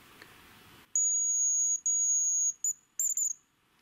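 A shrill, piercing hazel grouse hunting decoy whistle sounds in several short bursts, first two longer blasts then quick broken chirps, loud and clear over quiet surroundings.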